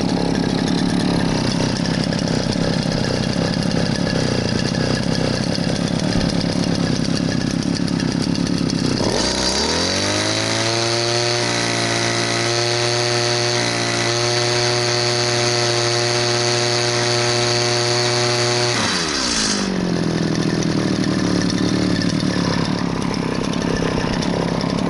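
An older Maruyama bushcutter's small two-stroke engine runs loud and close throughout, holding a buzzing idle, then revving up into a higher steady whine for several seconds before dropping back to idle.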